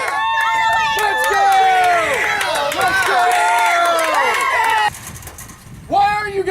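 Students at a pep assembly yell and cheer loudly together in a dense, echoing crowd roar, with shrill individual shouts on top; the noise dips briefly near the end, then swells again.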